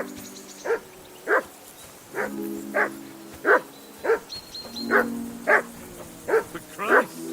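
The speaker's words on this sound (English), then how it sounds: "Call off that damn dog before he wolfs down the last of our mates." A dog in the medieval video game Kingdom Come Deliverance 2 barks repeatedly, about a dozen loud close barks in an uneven rhythm over a low ambient hum.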